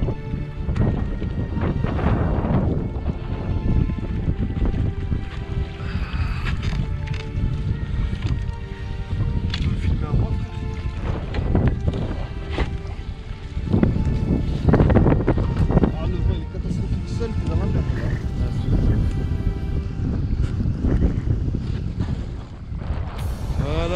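A small motor boat runs on a windy lake during a winter carp fishing outing, its engine droning steadily under heavy wind buffeting on the microphone, with voices talking intermittently throughout.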